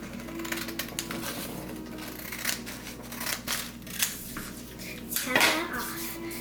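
Scissors snip through folded paper while a paper snowflake is being made. The close, crisp cuts come in irregular bursts over a faint hum, with a sharper snip near the end.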